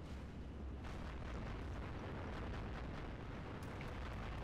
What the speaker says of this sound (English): shoot them with your gun, then hit them with a missile